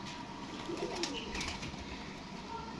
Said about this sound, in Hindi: ये टैडी कबूतर